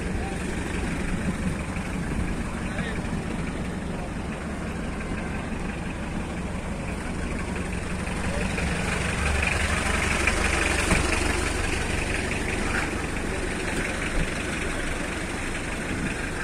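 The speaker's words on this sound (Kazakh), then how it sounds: "Motor кичине эми болду да, бирок мотор суукта эми азыр." A cold 2013 Hyundai Porter 2 truck engine idles with a steady low rumble and rattle that holds at an even loudness throughout.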